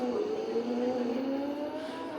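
A red motorbike in a video game race accelerates, its engine tone rising steadily in pitch as it picks up speed, a smooth synthetic whine heard at moderate level with no one speaking.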